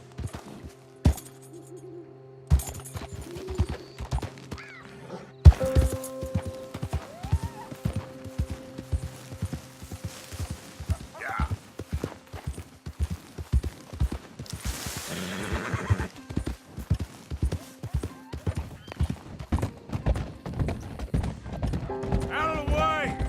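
A horse in Red Dead Redemption 2 gallops with rapid rhythmic hoofbeats and snorts, and loud whinnies break in along the way. Crashes and game effects appear in the mix, and a voice is heard at times.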